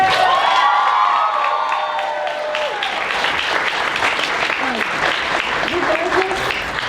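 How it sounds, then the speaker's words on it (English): At the Sabaku-Con 2024 cosplay masquerade awards, a large audience claps and cheers for every contestant, with loud, sustained applause mixed with whoops and shouts that fills the hall. "I just want one more round of applause for every single contestant."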